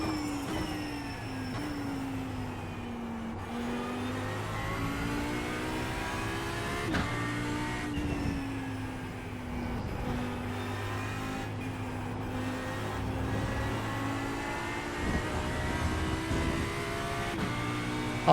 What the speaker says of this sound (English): The Audi and the Lambo sounds so good, so good.